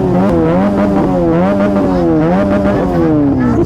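A Kawasaki ZX10R superbike engine revs loudly and close, its rising and falling harmonic whine holding steady without pause and with no talking.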